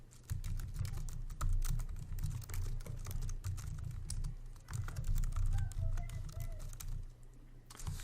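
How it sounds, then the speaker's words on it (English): Someone types a line of JavaScript code on a computer keyboard, a steady run of close clicking keystrokes over a low background hum, with a brief pause partway through and no talking. "I'm going to take this line and I'm going to type it out exactly over here on the right."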